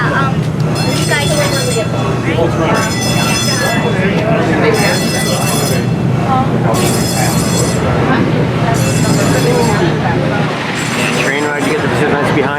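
A train ride at the Busch Gardens Williamsburg amusement park rumbles along steadily, with a loud continuous rolling drone and periodic bright ringing bursts, under a babble of voices.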